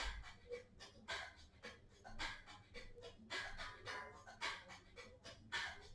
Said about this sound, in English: 2 more big, full inhales and exhales